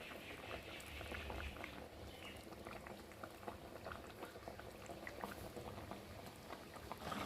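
Rohu fish curry with potato and eggplant simmers in its gravy, topped with chopped coriander, making a faint, continuous bubbling boil that stays even and close throughout.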